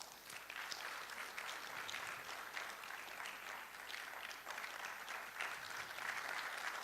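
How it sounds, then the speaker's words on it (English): Sustained applause from a meeting audience at a Ghana College of Physicians annual general and scientific meeting, dense steady clapping filling the room for several seconds without a break. "Please, let's clap until she collects the microphone. Thank you. Keep clapping."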